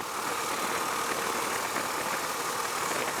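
A Husqvarna Svartpilen 401 motorcycle engine runs at a steady, dense drone with no pauses, close and fairly loud, and nobody speaks.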